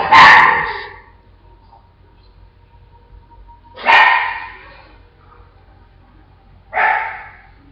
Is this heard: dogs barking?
yes